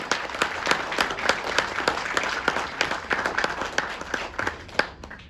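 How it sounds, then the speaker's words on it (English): Audience applause fills a hall at an Ignite talk event, dense steady clapping from many hands that holds for about five seconds before tapering off at the end. "A big round of applause for all of us."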